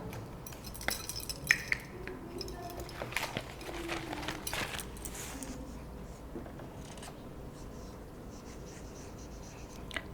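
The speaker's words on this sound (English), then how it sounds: "Now I will write the sentences over here." Chalk or marker writing sentences on a classroom board for an English picture-composition lesson, with scratchy strokes and taps in irregular bursts over the first few seconds, then fainter, quieter marking against a low room background.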